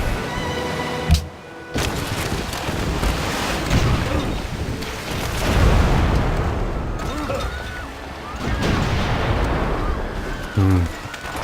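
Artillery bombarding a city in Civilization V, with repeated booming blasts and rumbling impacts running through the scene, mixed with game sounds and someone talking over them.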